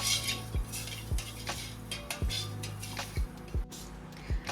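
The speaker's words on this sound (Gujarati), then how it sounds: "ખાંડ ઓગળે ત્યાં સુધી આપણે મિક્સ કરીશું।" A spoon stirs sugar into a lemon shikanji drink with salt and roasted cumin powder, clinking against the glass in a steady rhythm of about seven sharp taps under a soft swirl of liquid, close and fairly quiet.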